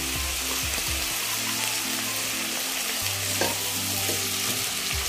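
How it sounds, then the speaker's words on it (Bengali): Onions fry in a pan with a steady, close sizzle that continues throughout, with the occasional scrape of stirring. "পেঁয়াজটা আমি হালকা নরম করে ভেজে নেব"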